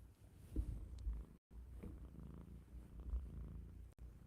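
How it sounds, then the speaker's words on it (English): A cat purrs softly up close, a low steady rumbling with rhythmic pulses of breath, quiet and continuous. "listen to him purr"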